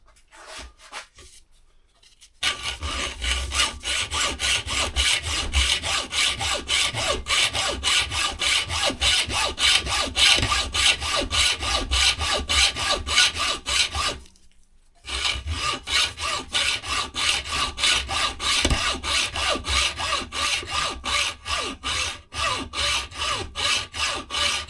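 Hand hacksaw cutting through a steel Harley Davidson brake shaft, steady rapid back-and-forth rasping strokes running continuously with one brief pause midway, close and loud with no talk.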